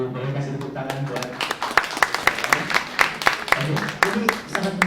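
Audience applause at a talk on blockchain technology in the property industry: a scattered patter of claps that builds and stays steady for several seconds, with voices faintly underneath.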